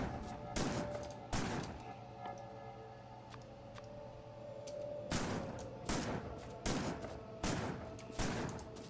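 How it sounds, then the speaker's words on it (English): Repeated gunfire in the factory-building game Factorio Space Age, sharp bursts of shots coming in uneven clusters over a steady hum of game ambience, with no talking. "Here, let me shoot a gun."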